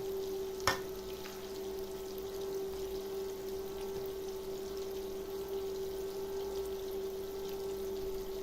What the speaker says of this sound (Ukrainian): ще одну покладу і буде смажитися